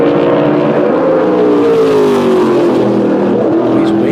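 A SMART Tour modified race car runs a qualifying lap at South Boston Speedway. Its engine roars loudly and continuously, and the pitch slides downward as the car sweeps past, with no voices over it.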